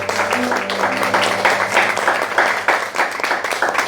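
A church congregation applauds Our Lady during a sermon, a dense, loud round of clapping with steady rhythmic bursts and a murmur of voices beneath it.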